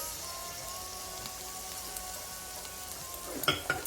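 Tomato puree sizzles and fries steadily in a clay matka pot for biryani, with a continuous crackle and a few louder spits and stirring clatters near the end.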